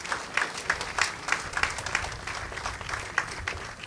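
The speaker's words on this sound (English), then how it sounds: "can we please have another round of applause for Ben and Baleen?" Applause from a crowd at an outdoor Lenape mural dedication, steady dense clapping from many hands at moderate distance, sustained without voices.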